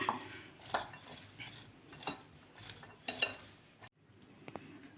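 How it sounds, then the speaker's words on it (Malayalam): Chopped raw mango pieces, cut with the skin on, are mixed with salt in a bowl for a mango pickle, giving soft stirring scrapes and light clinks up close with a brief quiet pause near the end. "ഇതിലേക്ക് ഒരു അര ടീസ്പൂൺ ഉപ്പിട്ട് കൊടുത്ത് നന്നായിട്ടൊന്ന് മിക്സ് ചെയ്ത് മാറ്റി വയ്ക്കാം"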